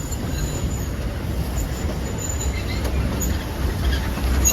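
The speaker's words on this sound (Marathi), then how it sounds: "ही ट्रेन वरतून खाली आलेली आहे" A train at Matheran rumbles past close by, a loud steady roar of wheels on rails with a thin high metallic whine above.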